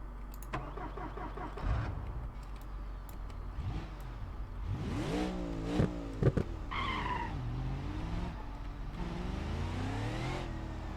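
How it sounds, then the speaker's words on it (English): A BeamNG.drive car with a swapped engine revs and roars, pitch sweeping up and down through gear shifts, with a whiny supercharger-like whine and tire noise. "It kind of sounds like it's supercharged"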